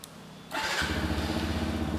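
A CFMoto Papio XO-1 125 cc motorcycle engine cranks and starts, settling into a steady, smooth low idle that runs on close by.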